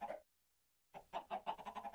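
Chicken clucking in a Minecraft-style chicken farm build: a short cluck, a brief silence, then a quick run of rhythmic, close clucks, fairly faint and with no talking.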